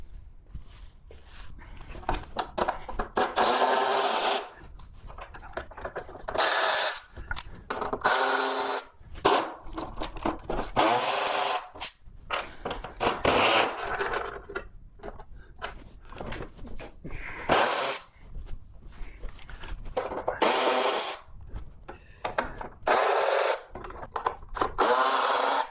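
Hand tools work at the front shroud and bolts of a Corvair engine during a teardown, making irregular scraping, rubbing and clattering bursts with short pauses throughout, steady and fairly close, with no talking.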